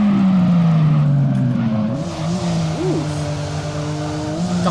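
A Toyota Chaser JZX100 in a video game drifts on the handbrake. A loud, close engine drone glides downward, then tires squeal and warble in wavering pitch as the car slides.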